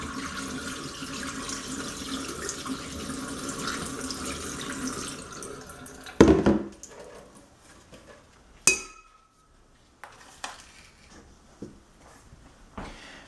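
Water pours through a strainer of blackworms at a sink, a steady broadband rush for about six seconds that then cuts off, leaving scattered clinks and small splashes.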